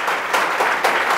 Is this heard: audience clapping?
yes